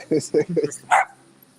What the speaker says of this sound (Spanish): yo tengo un perrito al lado